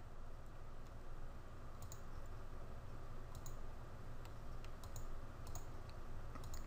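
Scattered, faint clicks of typing on a computer keyboard come through over a steady low background hum, irregular and sparse.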